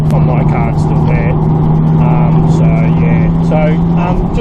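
A Mitsubishi Evo 8 MR FQ-340 drones along with a steady, loud engine note and road rumble heard from inside the cabin, while someone talks over it.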